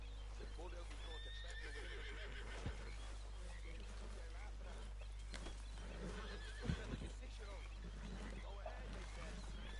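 In Red Dead Redemption 2, a horse gives a few whinnies and snorts amid hoof clops and ambient game sounds, while someone talks over it and a low constant hum runs underneath.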